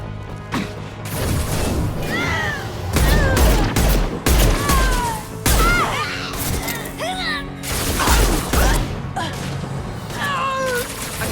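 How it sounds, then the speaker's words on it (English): Impact shot gunfire during the assassin recruitment mission in Mass Effect 2: loud, heavy blasts in separate clusters, mixed with high wailing, yowling cries and shouted voices between the shots. "Impact shot."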